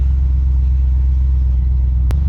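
A Ford Galaxie with a freshly repaired engine and rebuilt steering drives a lap, its deep engine drone loud and steady from inside the car, with a brief sharp knock near the end.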